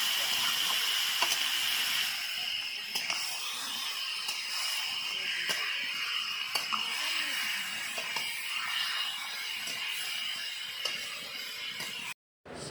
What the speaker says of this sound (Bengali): এখন পেঁয়াজ ভাজার সাথে মাংস ভালো করে মিশিয়ে নেব